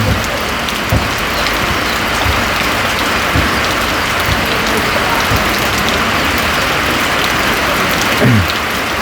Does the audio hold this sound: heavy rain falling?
yes